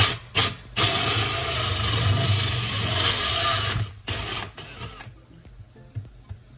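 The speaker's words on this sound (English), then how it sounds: "I got my hole saw, nice sharp one." Hole saw grinding through reef tank material for plumbing, a steady loud buzzing cut lasting about five seconds with brief pauses, then dropping away to quiet once the bit stops.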